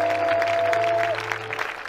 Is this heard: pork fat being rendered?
no